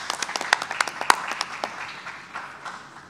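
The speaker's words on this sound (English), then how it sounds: "Let's give them a round of applause" An indoor crowd at a press event gives a short round of applause for the National Guard, brisk clapping that peaks early and tapers off within a few seconds.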